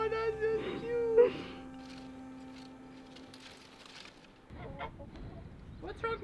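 A goose honks a few times up close, with short nasal calls near the start, followed by quieter rustling and movement.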